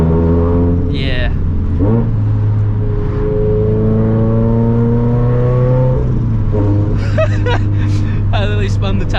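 A car's engine revs under roughly 30% throttle as the tires spin, producing a loud rising and falling drone with pitch sweeps, close up, while someone talks over it.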